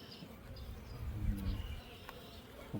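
Honey bees hum around an opened hive in a mechanic's apiary, a soft, continuous low buzz that swells and fades as insects drift close, fairly quiet with faint outdoor background.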